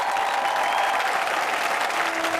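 A studio audience at a Bhojpuri television reality show claps in steady, dense applause to welcome a guest. The clapping is loud and fills the whole short stretch.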